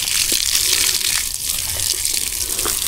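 Water gushing steadily from a hose onto young fruit trees and plants, including durian, jackfruit and dwarf coconut, a continuous broad splashing rush that stays loud and unbroken throughout, with no talk over it.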